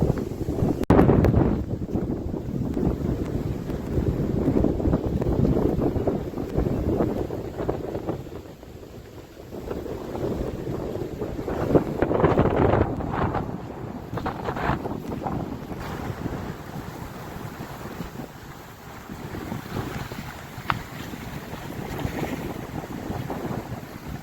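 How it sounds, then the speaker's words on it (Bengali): Strong wind roars and buffets steadily over a river in the Sundarbans, with rough waves churning beneath; the gusting noise rises and falls without pause. "এই হাওয়ার কারণে নদীতে তুফান হচ্ছে, দেখুন কেমন"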